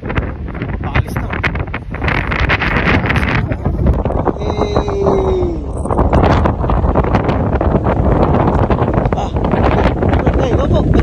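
Strong wind buffets the microphone on a boat out at sea during a trip to an island, a continuous loud roar with gusting surges while a voice speaks faintly beneath.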